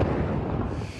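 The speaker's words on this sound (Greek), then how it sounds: "Από το ισχυρό θερμικό φορτίο προκαλείται μεγάλη έκρηξη." A large explosion at military ammunition depots engulfed by a fire spreading through dense vegetation around an army camp, heard as a sustained, loud, rumbling roar lasting about a second with no voices.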